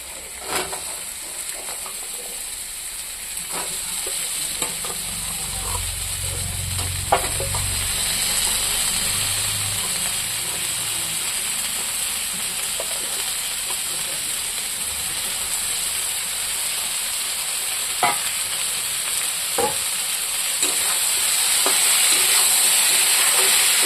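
Cut taro stolons stir-fried with spices in a pan: a loud, constant sizzle and hiss runs throughout, punctuated by occasional utensil scrapes and taps, with a low thud midway and no speech.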